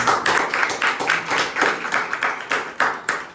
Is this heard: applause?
yes